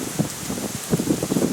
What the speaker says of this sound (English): Yep, there's the rain right there.